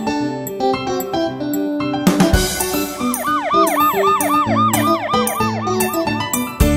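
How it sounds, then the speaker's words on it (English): A cartoon ambulance siren wails, rising and falling repeatedly over bright, bouncy music, loud and upfront, with a cartoon-like feel. "Ambulance Donna is here."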